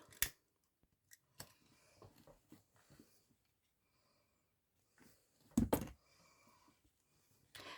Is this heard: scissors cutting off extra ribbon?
yes